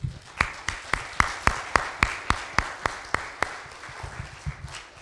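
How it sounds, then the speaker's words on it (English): A church congregation at a Sunday school celebration claps together in unison, about a dozen sharp, evenly spaced claps in a steady rhythm that gradually loosen and fade toward the end. "So let's give the Lord a clap offering."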